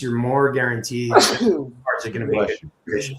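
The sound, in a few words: sneeze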